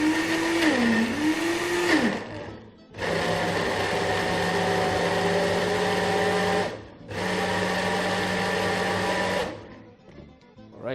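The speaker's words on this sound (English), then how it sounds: "in the blender goes in the chickpeas. Just gonna blend that on this side." A blender whirs through chickpeas for hummus in three loud bursts, its motor pitch wavering at first, with short pauses between runs.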